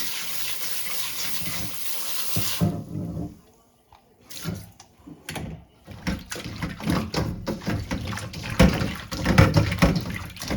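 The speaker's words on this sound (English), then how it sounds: "we're gonna get some cold water on top of that" Cold water poured from a tap over raw chicken being washed with vinegar in a sink, a steady splashing rush at first, then broken spurts and splashes as the pieces are handled, fairly close.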